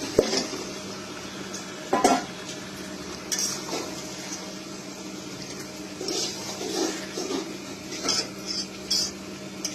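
Chicken is stirred into spice masala in a pan, with scraping spoon strokes and sharp metallic clinks coming at irregular intervals over a soft background sizzle, close by and without speech.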